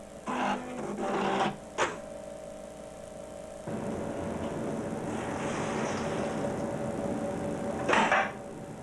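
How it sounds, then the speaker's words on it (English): A Juki AMS-210B industrial pattern sewing machine test-sews a programmed pattern, giving brief mechanical whirs and clunks, then a long steady running hum at moderate loudness, with no voices. "You can now perform test sewing using normal sewing procedures."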